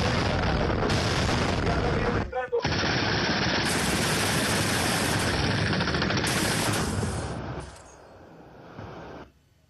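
Sustained heavy gunfire and explosions from air support fire during a Venezuelan military exercise, a dense continuous roar with a brief gap, fading near the end under a distant voice.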